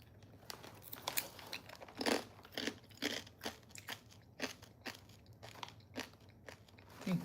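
Crunchy bites and chewing of a gluten-free vegan kosher snack, a steady run of close, sharp crunches and crinkles at an irregular chewing rhythm over a low background hum, with no talking.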